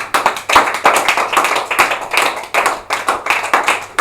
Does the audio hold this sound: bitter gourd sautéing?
no